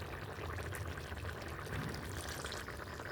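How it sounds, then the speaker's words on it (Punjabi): A little water is poured into a small bowl in a home kitchen, a steady faint splashing trickle lasting a few seconds with no talk. "ਥੋੜਾ ਜਿਹਾ ਪਾਣੀ ਪਾ ਲਾਂਗੇ ਕੌਲੀ 'ਚ"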